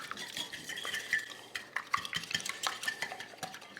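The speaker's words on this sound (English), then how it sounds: "Whisk." Eggs being whisked in a rinsed bowl that earlier held cabbage, a fast irregular clatter of a utensil against the bowl, close and fairly quiet, with no talking.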